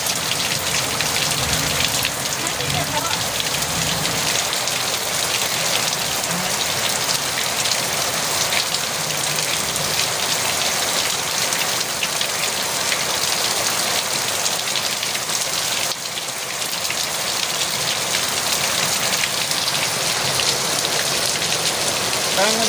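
Heavy rain pours steadily and densely onto surfaces, a loud, unbroken hiss that stays even throughout with a faint engine-like rumble underneath.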